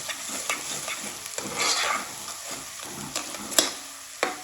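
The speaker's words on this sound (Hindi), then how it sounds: "अब यहाँ पे मैं अदरक लहसुन का एक ये देखे छोटा चम्मच है, ये डाल देंगे, इसको थोड़ा सा भून लेते हैं।" Ginger-garlic paste sizzles and fries in a hot pan while being stirred, a steady close crackle with scraping strokes and no talk.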